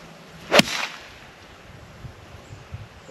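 A golf club swings and strikes a ball once, a sharp close swish-crack followed by a fainter whoosh, then outdoor wind noise lingers with no talk.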